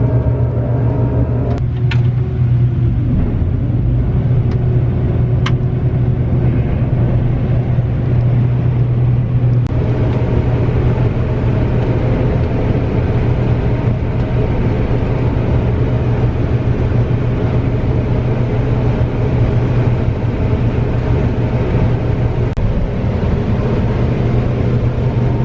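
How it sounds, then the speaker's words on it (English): Combine harvester running in a field while filling a semi-truck, a loud, steady low engine drone and rumble with a constant hum, a few faint clicks early on, no speech. "I'm gonna run the combine and fill that semi-truck."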